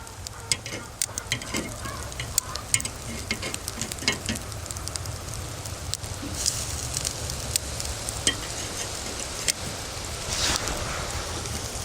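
Bacon sizzles on a charcoal grill outdoors, a steady close crackle and hiss with scattered sharp pops throughout, a little wind noise and faint talk now and then.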